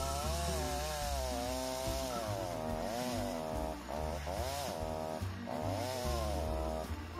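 A chainsaw with a dulled chain drones steadily nearby, its engine pitch rising and dipping as it cuts a fallen log into rounds, with no pauses.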